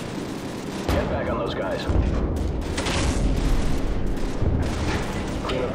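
Gunfire in the Call of Duty 4: Modern Warfare video game, with heavy booms and rattling shots layered in a loud continuous battle, while a voice calls out orders over the din.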